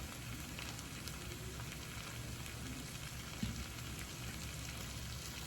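Shrimp searing in a skillet for garlic butter shrimp scampi, a quiet, even sizzle with soft crackling and a faint bump midway, steady for the whole stretch and free of speech.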